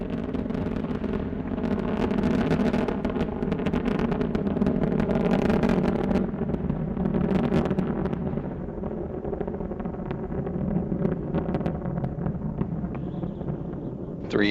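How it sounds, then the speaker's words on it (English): Space Shuttle Endeavour's engines roaring during launch, a dense, sustained rumbling roar that stays loud and broad throughout, with a low steady drone beneath it. "Three engines now throttling down as Endeavour passes through the area of maximum dynamic pressure"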